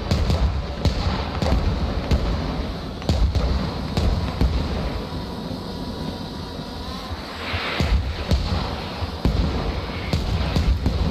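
Mortar barrage explosions in a military combat game, with a Chechen force shelling British infantry: dense, rumbling booms and crackling blasts overlapping one another without pause throughout, loud and heavy.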